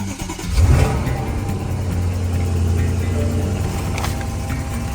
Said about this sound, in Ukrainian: Нова вісьмірка. Треба послухати, як вона